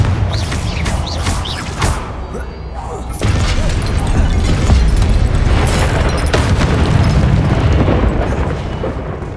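A Confringo blasting spell goes off in Hogwarts Legacy, a loud, heavy boom that swells at about three seconds and rolls on as dense rumbling explosions and crashes, with dialogue and battle noise mixed in.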